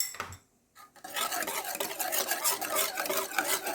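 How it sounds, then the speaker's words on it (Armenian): A spoon stirs thick honey cake batter with baking soda in a bowl, giving continuous scraping, rasping strokes after a brief pause near the start. "Սա էլ լավ հարենք,"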